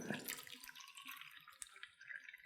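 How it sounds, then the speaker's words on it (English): Water is poured into a plastic ice cup massager, giving a quiet, steady trickle and splash that stays faint and close throughout. "You take your water and you'll pour it in here"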